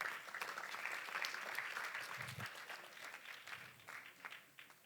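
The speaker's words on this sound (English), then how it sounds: "A round of applause for the MC." Audience applause for the MC at an estate planning symposium in Uganda, a sustained, fairly distant patter of many hands clapping with a brief low murmur partway through, fading slightly toward the end.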